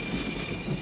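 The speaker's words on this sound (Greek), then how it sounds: "Απάντησέ μας με τον ήχο του τρένου." Train wheels squeal steadily against the rails with a rumbling railcar underneath, a loud continuous screech and roll that fills the short moment alone.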